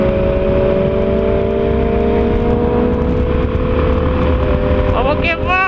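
A motorcycle rides a winding country road as part of a group ride with more than twenty bikes, its engine droning loud and steady with a rising tone, close to the microphone, and wind rushing underneath.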